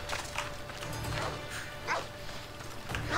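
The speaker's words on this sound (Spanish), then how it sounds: "Pero, ¿desde cuándo los lobos ladran, tío?" A wolf in the video game Assassin's Creed Odyssey gives a few short, dog-like barks spaced about a second apart, fairly close, over a steady background of game sound.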